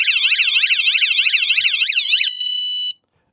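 A loud electronic van security alarm siren warbles rapidly up and down, switches to a steady tone, then cuts off abruptly.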